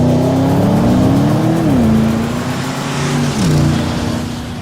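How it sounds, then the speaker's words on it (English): A Porsche Panamera Turbo S on a race track, its engine droning loud and close with rising revs, a brief dip and another climb as the car drives hard. "It was great fun to drive the new Panamera Turbo S"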